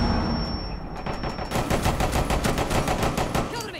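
Rapid automatic gunfire in a Teddy Bear game mode of a shooter, a fast regular burst of shots lasting a couple of seconds, loud and close, with faint talk beneath.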